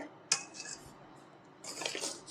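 A whisk stirring honey cake batter with flour, oil and milk in a bowl, soft scraping with a sharp clink near the start and a brief burst of clinks near the end, close and quiet, without voices.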